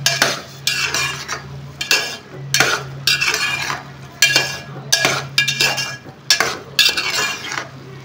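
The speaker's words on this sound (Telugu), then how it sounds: "ఇలా దగ్గరికి వచ్చిన తర్వాత షుగర్ అనేది వేసుకుందాము. వేసుకొని కలిపేసుకున్నాము." Spoon scraping and clinking against a pan while sugar is stirred into semiya, in repeated bursts of close metallic scrapes with a steady low hum underneath.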